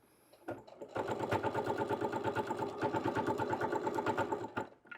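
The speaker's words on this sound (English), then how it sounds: "We're going to keep sewing to this corner." A sewing machine runs steadily while stitching a dish mat crossbody bag toward a corner, a fast, even mechanical whir with rapid needle clicks that starts after a brief pause and fades at the end.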